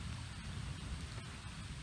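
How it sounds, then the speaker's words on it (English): Steady rain falls outdoors near a kayaker's spot by a hillside cliff overhang, a dense, even hiss of drops on surfaces running throughout with no voices. "Let's hope the rain just leaves us within an hour or so."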